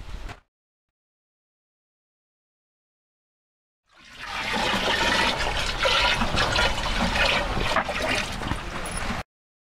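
Cow urine pours into a 200-litre drum of water in a steady, loud gushing splash that runs for about five seconds after a short silence, then stops abruptly.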